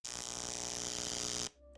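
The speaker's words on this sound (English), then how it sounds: "something powering up" A synthetic power-up effect: a steady, buzzing electrical hum rich in tonal overtones holds for about a second and a half, then cuts off abruptly into near silence.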